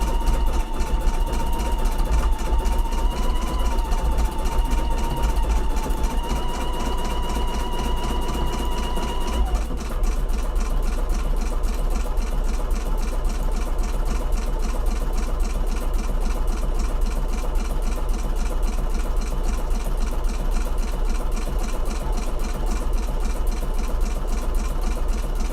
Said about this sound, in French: la machine fait des grands points pour la lettre que j'ai